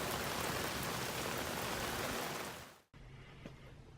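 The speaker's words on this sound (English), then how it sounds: "It's not raining quite as hard as it was a few minutes ago, but it's still raining pretty good." Steady, dense rain pours down outdoors as a loud continuous hiss, then abruptly drops to a quieter patter with a faint tap.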